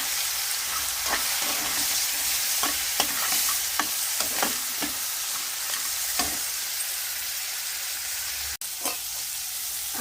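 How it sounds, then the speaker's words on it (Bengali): Chillies, turmeric, salt and ginger fry in hot oil in a pan, a continuous close sizzle broken by repeated scraping strokes of a stirring spoon and one sharp clack near the end. "আদাটাও দিয়ে দিলাম, সঙ্গে ভাজা হয়ে যাবে।"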